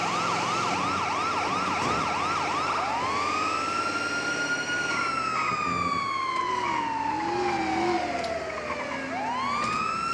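A video game ambulance siren wails, sweeping up and down repeatedly, loud and close, with its pitch sliding as it passes, no talking.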